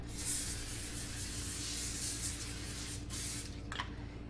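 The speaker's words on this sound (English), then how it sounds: "I'm going to spray the pan." Close cooking spray hisses onto a pan in a long continuous burst, followed by a couple of shorter sprays near the end.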